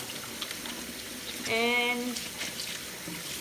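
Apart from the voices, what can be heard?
water running while washing hands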